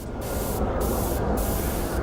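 Spray paint hisses from a can as makeup artists colour prosthetics, a loud continuous airy spray broken by brief pulses roughly every half second, with no voices.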